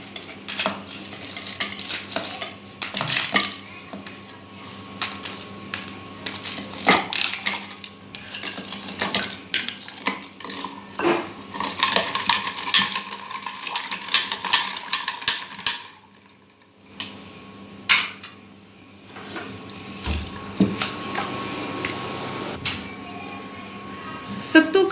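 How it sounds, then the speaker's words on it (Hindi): Ice goes into sattu sharbat and gets stirred, producing clinking and rattling against the glass or vessel in irregular bursts, close and fairly loud, with a short quiet pause before more clinks. "अब हम इसमें बर्फ़ ऐड कर देते हैं।"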